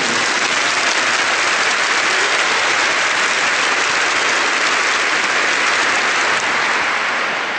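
A large congregation claps loudly for the Lord during a priest's sermon, producing dense, sustained applause that fills the space evenly from start to finish, with no voices heard.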